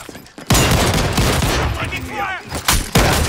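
Rapid shotgun blasts in a first-person shooter video game, loud close booming shots in quick succession with a brief whistling effect between them, a voice shouting briefly under the gunfire.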